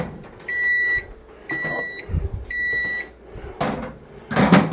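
A microwave oven heating two cups of water gives three evenly spaced electronic beeps, followed by clunks and rattles of the door and cups close by.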